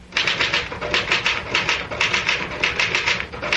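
A manual typewriter clacks in quick, uneven bursts of keystrokes, close and dry, running continuously for a few seconds with no voices over it.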